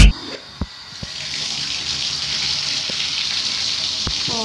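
Cold water running from a tap into a tub for an ice bath, a steady loud gushing splash that fills the space after a few sharp knocks and clunks at the start.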